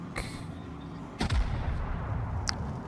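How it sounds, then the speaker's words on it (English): Naval gunfire in World of Warships: heavy shells fired toward the battleship New York, with a sharp loud boom just after one second over a steady low engine rumble, then a faint distant report near the end. "I'm gonna get some shells away at the New York"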